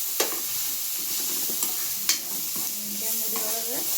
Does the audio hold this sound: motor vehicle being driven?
no